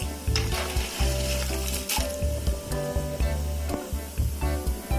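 Ragi ribbon pakoda bubbles and crackles in hot oil, a close, continuous fizz over a low hum, with recurring light scraping and clattering from a utensil moving through the pan.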